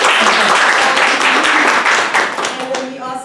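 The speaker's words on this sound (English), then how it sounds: "let's give her a round of applause" A conference audience applauds a newly introduced sociology professor at a community summit, dense steady clapping that fills the room and then thins and tapers off toward the end.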